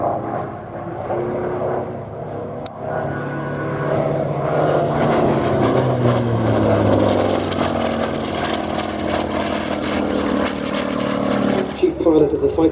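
P-40 fighter banking hard in a tight high-G turn at an airshow, a loud sustained propeller-engine roar with a shifting, droning pitch, steady throughout and easing near the end.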